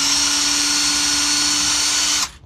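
A cordless drill, powered by a battery that has been repaired, runs continuously at a steady high-pitched whine, close and loud, then stops abruptly and leaves near silence.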